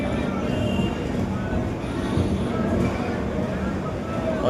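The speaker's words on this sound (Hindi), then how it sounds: "सामने देखो खड़ी है कंचनजंगा एक्सप्रेस, सिलचर से आने वाली, हावड़ा को जाने वाली" Kanchenjunga Express standing at New Jalpaiguri railway station, a steady rumbling rail-platform din with low machinery hum and crowd bustle throughout, loud and continuous.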